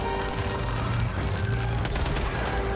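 Rapid gunfire from Helldivers 2 rattles continuously over a dense, loud game soundscape, with a burst of sharper, brighter shots near the end; no talk.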